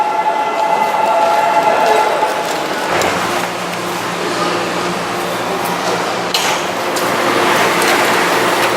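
A train pulling away from a station, with a loud steady rumble and whine of rolling stock, a shift in tone partway through and sharp rattles near the end, heard close and alone.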